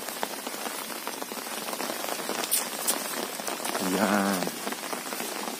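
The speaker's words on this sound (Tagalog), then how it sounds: "Grabe yung hangin. At saka yung ulan." Heavy rain pours steadily on surfaces outdoors among dragon fruit plants, with gusting wind adding a broad rushing roar; a voice speaks briefly over the downpour.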